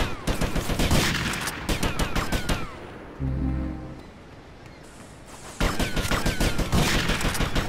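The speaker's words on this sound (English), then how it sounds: "Yep, I'm gonna shoot you." Rapid automatic gunfire from Grand Theft Auto: Vice City Stories rattles in dense bursts, a loud stretch, a short lull with a low rumble, then another heavy volley.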